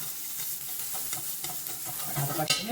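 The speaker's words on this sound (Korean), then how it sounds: "윤기 나도록 볶아주세요" Japchae ingredients stir-fried in a pan with a little water instead of oil, giving a steady soft sizzle broken by repeated scraping and stirring strokes, close and moderately loud, with no talking.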